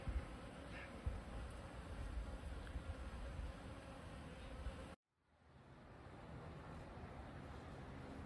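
Honey bees buzzing around a newly occupied hive, a steady dense hum close by that drops out abruptly partway through, then returns more faintly.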